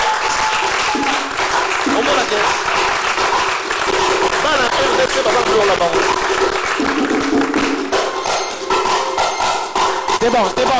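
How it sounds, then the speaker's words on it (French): Loud, sustained applause from a comedy show audience, with cheering and shouts mixed in, continuing steadily for about ten seconds. "On va applaudir très fort pour lui."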